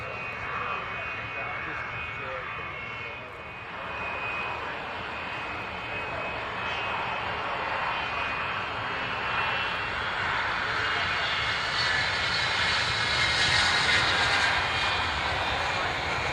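An Avro Vulcan jet bomber comes in to land, its engines producing a loud, sustained roar and whine that swells toward the end, with a faint voice underneath.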